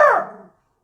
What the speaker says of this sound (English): He's my little guard dog. He must hear something.